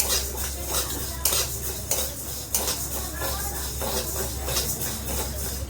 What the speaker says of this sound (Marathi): मूग डाळ पण अशी भाजून घ्यायची.